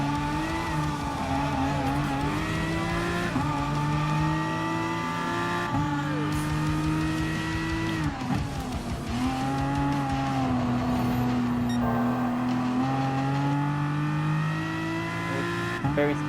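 Aston Martin Vantage GT3 race car engine in Gran Turismo Sport, revving hard with rising and falling pitch through gear changes, loud and continuous with occasional tire squeal, alongside other cars.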